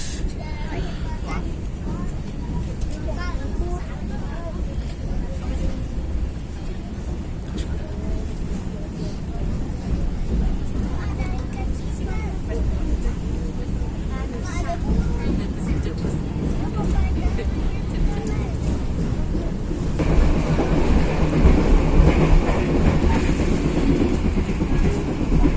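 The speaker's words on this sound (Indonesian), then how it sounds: "Dan ini kita melewati jembatan Sungai Brantas." Rumbling and clattering of the KA Logawa passenger train crossing the Brantas River bridge, heard from onboard, a loud continuous roll with rhythmic wheel clacks that grows heavier near the end; a voice talks over it.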